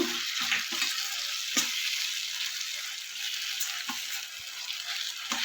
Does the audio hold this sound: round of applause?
no